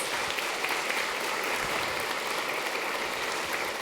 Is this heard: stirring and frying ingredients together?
no